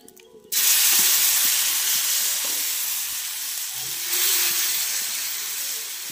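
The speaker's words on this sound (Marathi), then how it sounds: "छान अशा खरपूस भाजून देते." Dhirde batter hits a hot iron griddle over a wood-fired stove and bursts into loud, close sizzling that holds steady, with a fresh surge of frying hiss partway through and faint clinks in the background.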